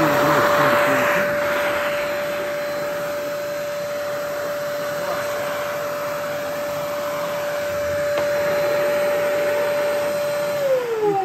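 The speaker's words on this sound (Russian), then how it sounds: "Пылесос" A vacuum cleaner runs continuously with a steady high whine and airy roar, holding level for the whole stretch before the pitch drops slightly at the end.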